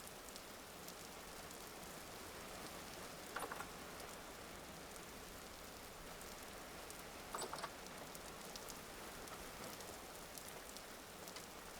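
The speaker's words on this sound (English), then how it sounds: "Finally, it's actually raining now." Steady rain in the survival game Vintage Story, a constant broadband hiss of drops falling on surfaces, with a couple of brief brighter clicks near three and seven seconds.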